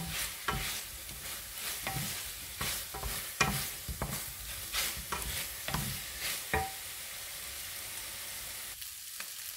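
Pork browning in a pan for ginataang pork, with steady frying sizzle broken by repeated scraping stirs and clinks of a utensil, close up and with no voices.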